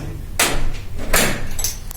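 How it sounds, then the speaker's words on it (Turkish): A door knocked on indoors: a few loud, broad thumps spaced apart, close and alone without talk. "Kim çaldı şu kapıyı ya?"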